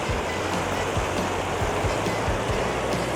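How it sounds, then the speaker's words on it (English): Steady rushing and splashing water fills a water coaster ride at a marine theme park during test runs, a continuous close wash of spray with faint low rhythmic thumps beneath, no voices. "at our beloved water coaster testing."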